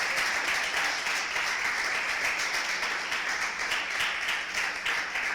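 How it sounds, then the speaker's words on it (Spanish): A church congregation claps loudly and steadily, a dense wash of many hands sustained throughout at an even level, with no talk over it. "Fuerte esas palmas al Señor."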